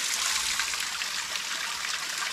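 Water trickles steadily into an underground drain, a continuous close hiss and splash with no talking over it.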